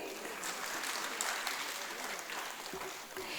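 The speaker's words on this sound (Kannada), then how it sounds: "ಚಪ್ಪಾಳೆ ಬರಲಿ." An audience claps steadily through a literary conference gathering, a fairly faint, dense wash of many hands heard from a distance, with some murmuring under it.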